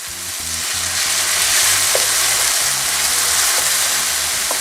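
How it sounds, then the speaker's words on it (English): Onions and garlic sauté in a pan with a loud, steady sizzle and crackle throughout, stirred now and then, with no talking. "So we just want to saute until it's translucent. Then we're gonna add in our garlic."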